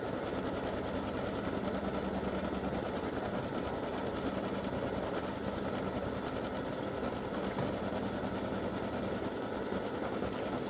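An embroidery machine stitches out a free-standing lace ribbon design, a continuous rapid mechanical whirring and needle chatter at steady volume, alone without talk.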